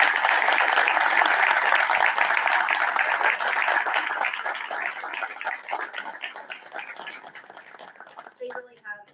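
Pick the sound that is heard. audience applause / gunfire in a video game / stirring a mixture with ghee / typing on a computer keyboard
audience applause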